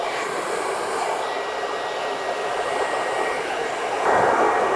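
Hair dryer blowing on a self-cut disconnected undercut as it is styled, a steady close broadband whoosh running throughout and rising slightly louder near the end.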